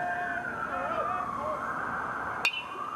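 Distant emergency sirens wail with a faint, wavering rise-and-fall tone outside a high school baseball game, with a sharp click near the end.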